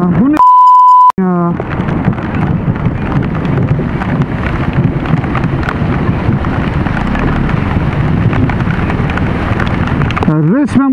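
Heavy rainstorm in Istanbul pouring in a dense, loud, continuous wash with wind buffeting the microphone, bracketed by short electronic beeps at the start and end, with a voice speaking over it.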